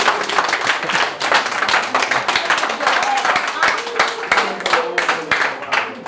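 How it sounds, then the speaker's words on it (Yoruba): Crowd applause at a traditional Isese worship gathering in Ejigbo, steady clapping of many hands sustained throughout, fairly loud and close with a voice faintly audible beneath. "ẹ pàtẹ́wọ́ fọ́rùn mi là"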